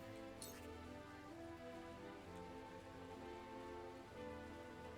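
Steady rain falls in the tactical role-playing video game Triangle Strategy, a soft continuous patter with faint tinkling drops under a low, layered musical hum, fairly quiet throughout.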